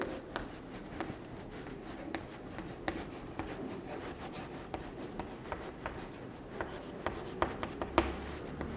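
Pen writing a definition by hand, soft scratchy strokes and light taps repeating irregularly throughout, quiet and close with no speech.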